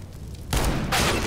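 Revolver gunshots in the CS:GO video game, two loud sharp blasts with a brief burst after them, close and with no talk.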